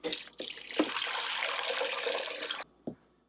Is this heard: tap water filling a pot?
yes